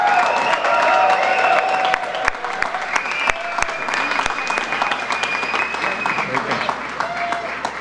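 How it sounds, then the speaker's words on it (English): Crowd at a political speech in a Pennsylvania community center breaks into loud, sustained applause with some cheering and whistles mixed in, with scattered individual claps standing out and a voice carrying over the noise. "Would you give another round of applause to the next congressman from the Commonwealth of Pennsylvania, Rick Saccone"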